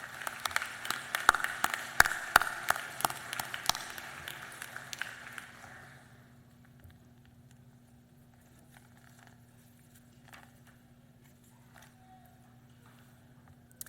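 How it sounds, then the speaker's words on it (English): Audience applause at a nursing graduation ceremony for practical nursing and associate degree nursing graduates, thanking families and loved ones: dense clapping for about six seconds that fades out, leaving a quiet hall with a low steady hum. "please join me in showing your appreciation with a round of applause for your"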